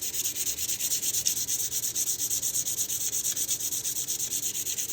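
Aluminum oil-belted with WD-40 on a 600-grit belt sander gives a steady, close, hissing grind with a fast pulsing flutter throughout, and no voices.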